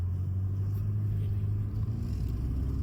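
A BMW X3 pulls away at low speed, giving a steady, fairly quiet engine hum and a low road rumble from inside the cabin, with no clear revving.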